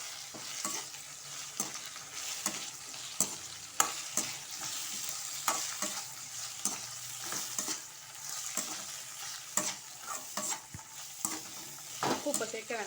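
Ridge gourd and coconut sautéing in a pan, with a steady low sizzle broken by repeated scraping stir strokes that come in an irregular rhythm, close and moderately loud.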